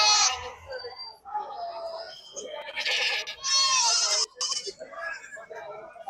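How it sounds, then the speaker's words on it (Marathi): Domestic goats, including nannies with kids, at a large Maharashtra livestock market bleat repeatedly, some calls long and wavering, close by amid voices and market bustle. "तर अशा प्रकारे या शेळ्या आजच्या बाजारामध्ये पाळीव शेळ्या आलेल्या आहेत"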